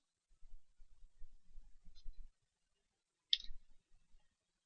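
Someone presses the V key on a computer keyboard, giving soft muffled taps followed by one sharper, brighter key click, all quiet and close, with no talk.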